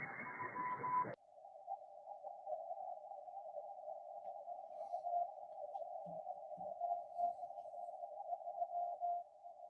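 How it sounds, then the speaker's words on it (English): Morse code from a Moscow spy number station comes over a shortwave receiver near 9336 kHz. A steady continuous tone drones through hiss after a brief burst of static, with faint keying variations underneath. "That Morse code that you hear is coming from Moscow, Russia. It's a spy number station broadcasting on 9336"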